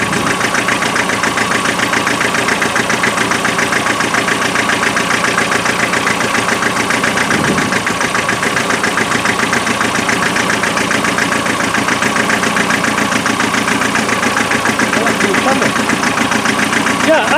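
A naturally aspirated 2.5 engine with a misfire idles loudly and continuously, a rough, uneven mechanical chatter close by, with voices talking over it.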